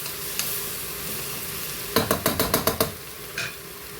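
Onions and masala frying for chicken chukka, a quiet sizzle under a quick run of about seven sharp rhythmic spoon scrapes against the pan, with a couple of isolated clinks before and after.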